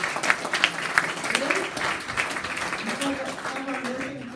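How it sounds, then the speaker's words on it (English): Members at a general meeting give a round of applause, a moderate burst of clapping with distinct sharp claps early on, under scattered talking voices. "let's give them a round of applause"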